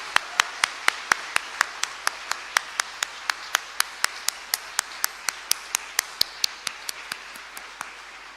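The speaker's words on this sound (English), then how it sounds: "Please join me in a round of applause for our 31st Armenian Peace Corps volunteers." A small, sparse audience at a Peace Corps Armenia swearing-in ceremony claps for the new volunteers, with distinct, evenly spaced claps that ring in a reverberant room.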